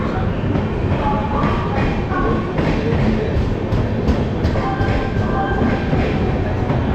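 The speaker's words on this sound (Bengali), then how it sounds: "এই হচ্ছে আমাদের ট্রেন বেরিয়ে যাচ্ছে" The 12839 Howrah–Chennai Central Chennai Mail passenger train pulls out of a station, a loud, steady rumble of wheels and carriages with rhythmic clattering close by.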